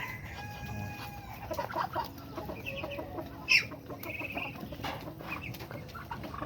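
Chickens cluck and call in a busy farmyard, with scattered bird chatter and one sharper squawk partway through, fairly close and without talk.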